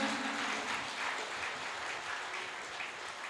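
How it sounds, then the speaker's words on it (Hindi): A crowd at a Ram Mandir gathering in Ayodhya claps continuously, a soft, fairly distant wash of applause lasting a few seconds with no voices over it. "जोरदार तालियों से इन दोनों महापुरुषों का अभिनंदन।"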